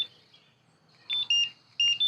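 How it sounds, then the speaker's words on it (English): Pairing confirmation beeps from a Motorguide Xi5 trolling motor and its controls, short bright electronic tones in two quick pairs, close and clear against near silence. "You hold down both arrows on the controls, you'll hear a beep that confirms that they're paired together"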